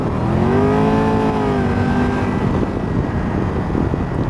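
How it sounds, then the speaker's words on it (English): Triumph Tiger 1200 GT Pro motorcycle engine drones steadily at close range, with a rising then settling harmonic tone suggesting a gentle rev while riding, loud and continuous with no talk. "I don't know whether you can hear the engine noise over this screen"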